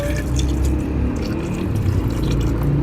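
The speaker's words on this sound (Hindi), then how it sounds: "इसमें आप डालेंगे पानी हस्बे ज़रूरत।" Water poured into a cooking pot while making Hyderabadi chicken dum biryani, a steady, close, continuous pouring and bubbling wash heard alone.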